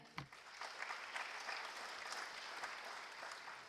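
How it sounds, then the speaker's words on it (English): A round of applause from the audience at a high school athletic awards banquet, starting with a sharp clap and then holding as a steady, moderately distant patter of many hands, with no talking. "Round of applause for them."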